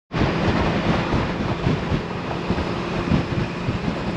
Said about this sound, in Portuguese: Está muito vento, mas é uma zona muito fixe.